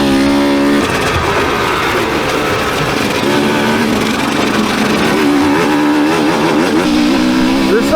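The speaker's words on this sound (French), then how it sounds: "On va laisser passer la voiture." A car passing on a dirt enduro course near Châteauneuf-sur-Charente, its engine note rising and falling steadily and loudly throughout with no talk.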